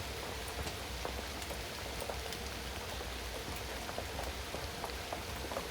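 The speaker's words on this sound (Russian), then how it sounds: "смотреть, как в лесу просто валит дождь прям без остановки, льет и льет" Steady, heavy rain pours continuously in a forest, a dense hiss with scattered drops pattering on surfaces, no voices.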